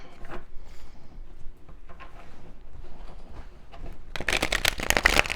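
Soft rustling and sliding of tarot cards being handled, ending in a louder, brisk riffle shuffle near the end.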